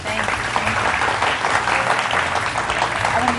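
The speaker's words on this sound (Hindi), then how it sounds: "आप तालियां शेफ एविश के लिए बहुत सारी" Studio audience applauding chef Avish on a Ramadan sehri cooking show, a dense steady wash of clapping at even loudness throughout, with low music or voices faintly underneath.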